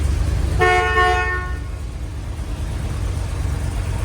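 A 1970 Corvette Stingray with a 454 LS5 V8 sounds one steady honk of its horn, close and loud, lasting about a second over a low engine rumble.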